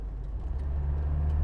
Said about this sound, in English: At idle, this engine just ticks along so very, very nicely.